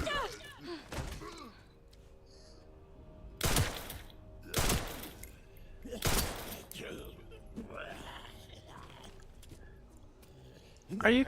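Gunshots in a survival horror video game, three loud sharp single shots spaced about a second or more apart over a quiet, dark ambience with a few faint creaks and thumps.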